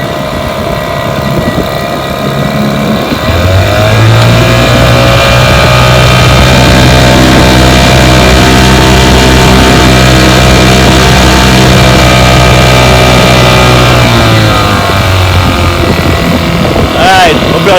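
A 1970 Evinrude 4 HP outboard motor in need of major work runs in forward gear, a loud, close, continuous buzzing drone whose pitch climbs and holds steady before easing back down near the end.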